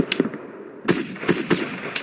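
Gunfire in the video game Mud and Blood: several sharp, loud shots in an uneven rhythm, a couple close together, then a pause and a burst of three more cracks.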